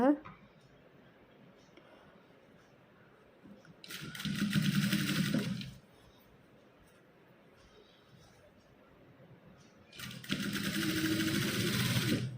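A sewing machine stitches a frock sleeve in two bursts of steady, fast whirring, each lasting a couple of seconds and separated by quiet stretches, heard close up.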